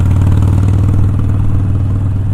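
A loud motorcycle engine with drag pipes idles with a steady, rumbling lope and slight backfiring crackle throughout, close by with no talking.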